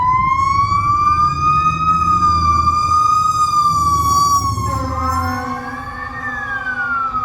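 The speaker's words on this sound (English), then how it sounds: "Man, that's a lot of fire engines." Several fire engine sirens wail as they pass, their overlapping rising and falling tones loud and close, with a truck engine rumbling beneath them.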